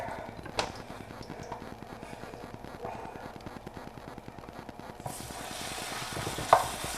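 Chicken sizzles and crackles steadily in a hot frying pan, with a brief brighter hiss partway through and a faint clink near the end.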